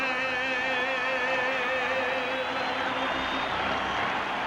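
A stadium crowd at Fenway Park in Boston roars and cheers right after the national anthem at a 1981 White Sox vs. Red Sox game, a dense, steady wash of noise with a sustained tone held underneath.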